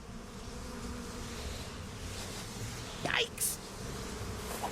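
Bees buzz in a steady, insect-like drone throughout a Psychonauts 2 game scene, with a brief louder swell near the end and someone's short spoken exclamation over it.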